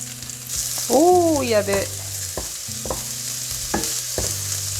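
Carrots frying in oil in a pan while cooking bibimbap: a steady, bright sizzle with soft clinks of stirring, and a brief voice speaking over it.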